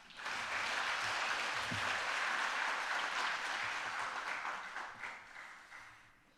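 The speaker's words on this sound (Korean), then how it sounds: "우리 3연합 격려 박수 부탁드립니다" A church congregation at a Friday prayer meeting bursts into encouraging applause, a full, even wash of clapping that swells quickly, holds steady, then tapers off.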